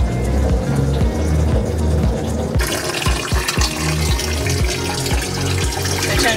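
Water runs steadily from an RV tap through a UV-LED water purification system, a continuous splashing gush that grows fuller and louder partway through, with no voices.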